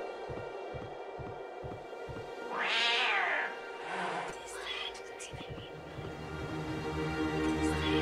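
A cat meows in the video game Octave, one rising and falling meow against a steady droning game soundtrack, with quiet whispered talking around it.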